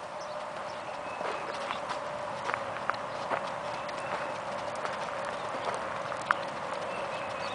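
Hooves clip-clop steadily in a quick, even rhythm over a constant background hiss, moderately distant.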